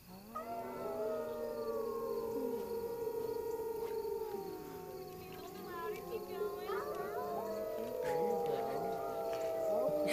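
At Wolf Park, a group of kids howls together in a puppy chorus meant for the wolves, with voices imitating wolf howls. Overlapping, wavering drawn-out tones rise and fall and hold steady for about ten seconds.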